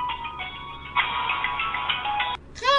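A telephone rings with a steady electronic ringtone pattern, loud and alone, before cutting off abruptly near the end.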